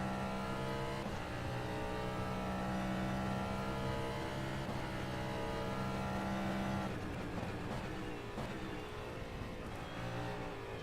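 Cadillac DPi prototype race car engine in the rFactor 2 sim at Sebring, droning steadily and loud throughout with shifting revs and gear changes, no talk over it.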